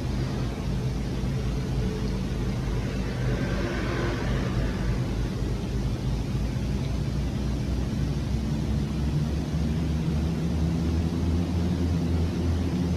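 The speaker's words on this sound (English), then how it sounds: "As well as you can hear the nice sound of the engines here." Steady twin turboprop engine drone of a simulated Fokker 50 in X-Plane 11, a continuous low hum with broadband hiss heard from the cabin, alone without talk.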